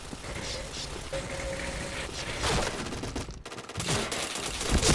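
Shooter video game gunfire: rapid bursts of automatic shots rattle in repeated volleys, with a sharper cluster near the end, set against a busy background with faint voices.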